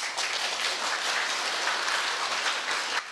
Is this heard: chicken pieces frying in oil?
no